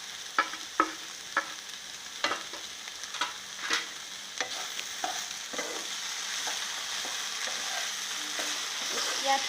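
Okra frying in a pan with salt and turmeric, sharp scraping stirs and clacks of a spatula repeating over a soft, steady sizzle, close and fairly quiet, no talking.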